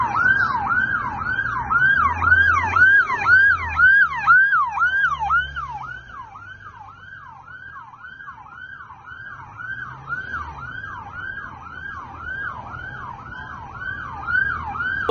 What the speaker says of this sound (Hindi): कैसे धमाके के बाद एम्बुलेंस की गाड़ियां इधर उधर भागती हुई दिखाई दी है